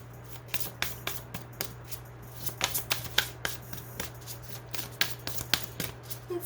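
Oracle cards being shuffled by hand in a series of quick, crisp riffling bursts, close and fairly soft, with a steady low hum underneath and no talking.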